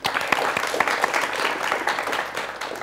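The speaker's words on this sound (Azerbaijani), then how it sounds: "Sizə alqış düşür, məncə." Audience applause at an Azerbaijani quiz show, a steady wash of many hands clapping for about three seconds, loud and continuous with no talk over it.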